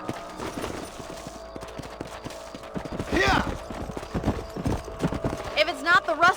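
Horse hooves clip-clop steadily across the ground in the Red Dead Redemption video game, a close rhythmic trot with a brief neigh and people talking over it.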